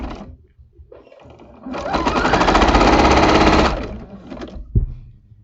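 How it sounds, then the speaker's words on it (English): A sewing machine stitches a quilt block seam, running steadily for about two seconds at a fast, even rhythm. Quieter handling noises come before and after, and there is no talk. "I'm going to sew it up real quick"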